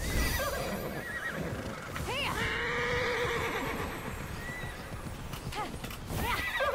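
A horse neighs and whinnies in the action-adventure game Immortals: Fenyx Rising, with several rising whinny calls over steady clip-clopping hooves, loud and close throughout with no speech over it.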